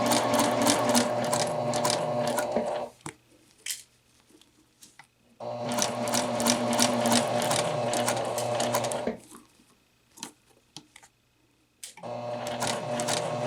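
A sewing machine stitches bias tape onto a neckline as a facing, running loud and close in three steady bursts broken by short pauses with small clicks and handling noises.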